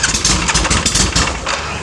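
Engine cold-starting at the press of a button, a loud close cranking that catches into a rough, pulsing idle settling over about two seconds, with no talking.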